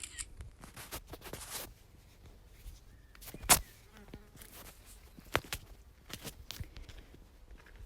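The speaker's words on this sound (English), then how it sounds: "Ooh, lots of bees here. I'll see if you can hear them." Bees buzz faintly around blackberry flowers nearby outdoors, mixed with scattered clicks and rustling, no voices.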